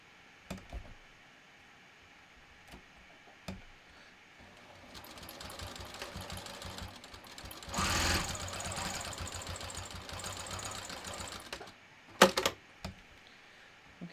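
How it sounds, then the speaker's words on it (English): Home sewing machine stitching a quarter-inch seam while making a fabric road trip wallet, a steady rapid whirring run that swells in the middle, with brief taps and clicks of handling before and after. "I'm going to sew that using 1/4 inch"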